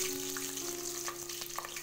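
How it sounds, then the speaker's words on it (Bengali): Chopped onion crackles and fries in hot mustard oil in a kadai, a steady close sizzle with a faint constant hum underneath. "এবারে পেঁয়াজ কুচি দিয়ে দিচ্ছি।"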